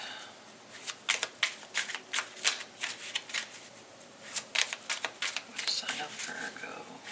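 Tarot cards are shuffled quickly by hand, giving a close run of crisp riffling bursts and flutters at an uneven rhythm, quiet overall with no talking.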